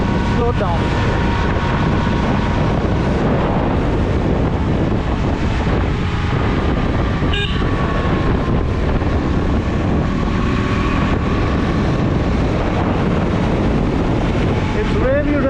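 A KTM Duke 200 motorcycle cruising at speed in sixth gear, its steady engine drone buried under heavy, constant wind roar buffeting the rider's microphone, with no break in the rush throughout.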